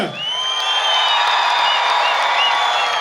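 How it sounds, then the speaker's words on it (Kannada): Loud sustained applause and cheering from a large crowd at a live stage event with a film star, steady clapping mixed with whoops filling the whole stretch. "ಜೋರಾಗಿರೋ ಚಪ್ಪಾಳೆ ಕೊಡಿ"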